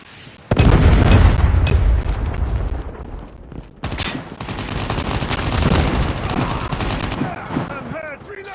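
Predator missile strike in Call of Duty Mobile lands with a sudden loud boom, followed by rumbling blasts, a second explosive hit and ongoing gunfire crackle with game effects trailing off.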